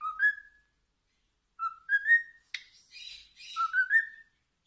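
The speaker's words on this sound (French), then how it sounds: "le mâle va beaucoup siffler" A cockatiel whistles in short rising phrases, repeated several times with pauses, plus a brief harsh squawk in the middle; close and clear.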